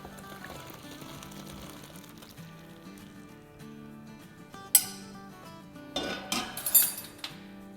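Cooked vegetables being strained after the stove is switched off, with soft metallic clinks, then a sharp clatter and a burst of pouring water and rattling cookware near the end, with no talking.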